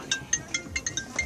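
A phone ringtone plays a quick melody of short, bright electronic beeps, about seven evenly spaced tones in just over a second, fairly close and clear.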